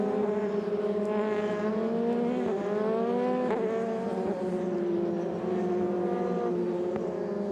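Race cars weaving from side to side to warm their tyres before a race start, with loud, sustained engine notes rising and falling as several cars pass nearby, and brief tyre squeal.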